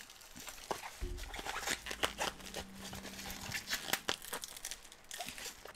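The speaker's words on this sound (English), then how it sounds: "I'm destroying the bubble wrap, who cares?" Bubble wrap crinkles and crackles up close in irregular bursts, with brief tearing sounds and a short low hum partway through.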